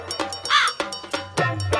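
A crow caws in several harsh, nasal calls, close and loud, with short gaps between them and one longer, rising caw in the middle.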